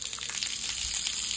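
Water gushing from a burst pipe line, a loud continuous hissing spray with splashy fluctuations, close and sustained for the whole moment.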